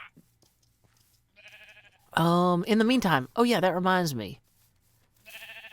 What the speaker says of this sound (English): We brought some livestock into town here to graze. And hopefully we can get a villager who will shear the sheep.